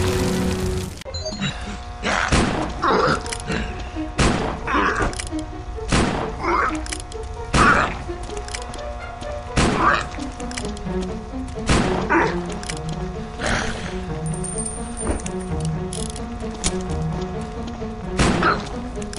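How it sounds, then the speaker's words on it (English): Explosions and heavy thuds go off repeatedly inside a burning hospital in the video game Land of the Dead: Road to Fiddler's Green, booming every couple of seconds over a dense, noisy background of game action. "Explosions rocked the hospital."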